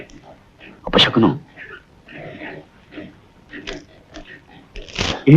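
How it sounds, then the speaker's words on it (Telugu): Pigs grunt and squeal nearby in short, uneven bursts, with snorts between the louder cries. "పందులు,"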